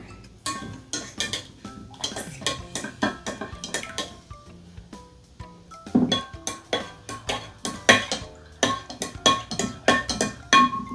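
Metal spoons clinking against bowls while calcium is stirred into water in three bowls for a kids' science experiment, with repeated close, bright taps and scrapes in an irregular rhythm and no talking.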